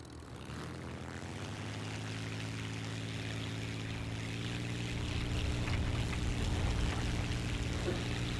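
Propeller-driven fighter engine in War Thunder's Korea setting, a steady droning hum with strong low harmonics that swells slightly louder over the span, heard alone without voices.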